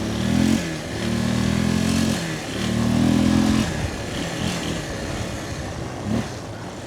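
A 1993 Yamaha Big Bear 350 ATV engine running in second gear, a loud steady low hum that rises and falls in pitch over several seconds, close by and alone.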